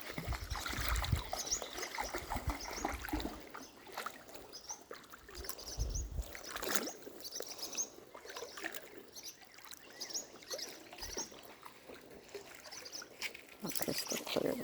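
Shallow creek water flows and trickles over stones on a bright day outdoors, a steady, faint wash of gurgling with soft splashes, fairly quiet throughout.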